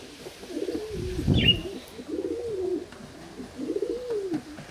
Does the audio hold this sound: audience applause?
no